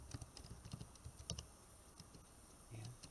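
Typing on a computer keyboard in Microsoft Word: faint, quick irregular key clicks in a quiet room, with a brief soft murmur of speech.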